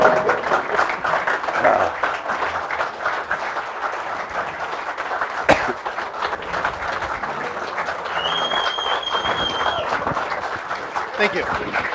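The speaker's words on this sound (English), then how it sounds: "Could we have a round of applause for Coach George Island?" Crowd applause for a football coach at a letterwinners' reunion celebrating the undefeated 1973 team, moderate clapping running throughout with people talking over it.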